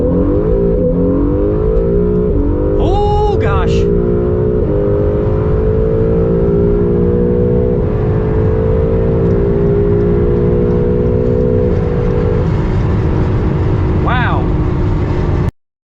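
An Acura NSX engine roars steadily as it accelerates hard from a stop, pitch climbing through the gears with sustained loud revving.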